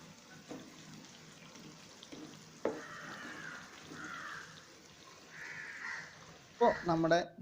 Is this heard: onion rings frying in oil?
yes